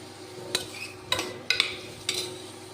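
Chopped onion and capsicum sautéing in hot ghee in a pressure cooker, a soft steady sizzle punctuated by four sharp scrapes and clinks of a ladle against the metal pot at regular intervals.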